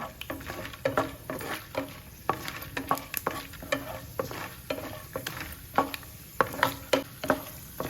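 Chana dal sizzles and fries in a pan while being stirred for semiya upma, with a steady hiss broken by repeated scraping stir strokes, close and fairly loud with no voice.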